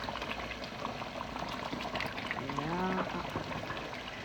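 Cooking oil pours into a pot for a Somali maraq xulbad stew, giving a soft, steady liquid rush that swells briefly near the middle and stays fairly quiet throughout.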